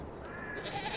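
Goats and sheep bleat on a farm in Farming Simulator 22, a couple of short nasal calls rising close by against quiet background ambience.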